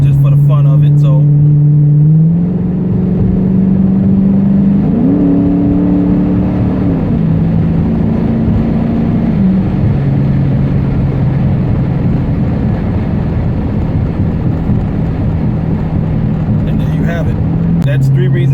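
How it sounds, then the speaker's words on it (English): A Dodge Challenger's Hemi V8 holds a deep, loud idle burble through its exhaust, rising in a few brief revs before settling back to a steady rumble, heard close. "you can hear right there, that's the fun factor and the exhaust right there"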